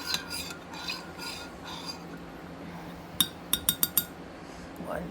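A spoon swirls and scrapes in a cup of strong coffee, first with soft rubbing strokes, then four or five quick ringing clinks against the rim, close and clear with no talk.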